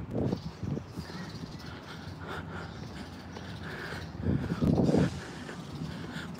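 Crows squabbling outdoors, giving a few harsh caws with the loudest burst near the end, over a steady background murmur.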